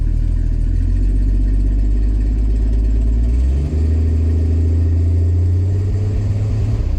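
A 1973 Jeep DJ-5C with a 232 engine runs close by, a loud steady low rumble that holds an even idle throughout, with a slight drop in pitch partway through and no talking.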